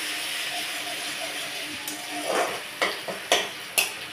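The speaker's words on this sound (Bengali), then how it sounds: "আমি প্রথমে তেলের মধ্যে আদা বাটাটা দিয়ে দিলাম," Ginger paste sizzles in hot oil in a pan, with a steady frying hiss and several close scrapes and knocks as it is stirred, no talking.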